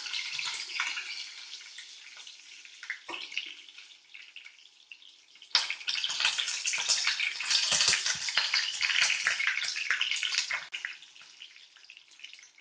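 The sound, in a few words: curry leaves added to hot oil with mustard seeds, frying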